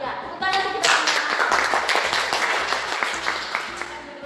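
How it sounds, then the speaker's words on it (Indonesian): Junior high school students burst into loud group applause after a chant, a dense continuous wash of clapping hands filling the room, with voices briefly heard at the start. "Ya, tepuk tangan untuk kita."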